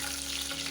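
Ginger, green chilies, cloves and garlic fry in hot oil for a palak paneer kofta curry, giving a brief, dense, steady sizzle up close.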